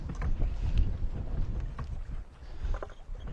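A sailboat motoring close to rocks after its sail has been taken in, with a steady low engine and hull rumble beneath gusting wind noise and water wash, fairly quiet throughout.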